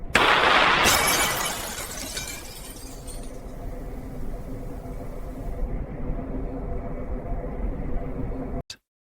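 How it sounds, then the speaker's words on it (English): A single rifle round strikes multi-layer bulletproof armored glass with a ceramic outer layer, making a loud, sudden shattering crack at the start that fades into a long, low rumbling roar before cutting off abruptly. "A single round is sent downrange. It smashes through the outer ceramic, releases a cloud of dust, and stops cold."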